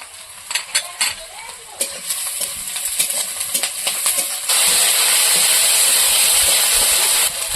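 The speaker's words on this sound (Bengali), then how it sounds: "এবারে পেঁয়াজ দিয়ে দিয়েছি লঙ্কা কুচি দিয়ে দিচ্ছি" Onion and chopped green chili go into hot oil left from frying pabda fish, starting with clinks and stirring taps, then swelling into a loud, sustained close-up sizzle, without speech.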